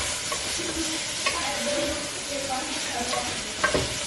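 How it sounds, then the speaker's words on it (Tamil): Curry leaves hit hot oil in a pan for a pepper chicken fry, giving a steady, close crackling sizzle with occasional stirring scrapes and no voices over it. "இதுல வந்து நீங்க கறி லீவ்ஸ் இப்போ போட்டுக்கலாம்."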